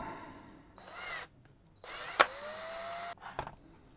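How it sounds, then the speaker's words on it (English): A power drill drills out a rounded, rusty screw in several short bursts, close and loud, with pauses between, one longer run winding down, and a sharp metallic clunk near the end. "Let's see if we can drill it out slowly."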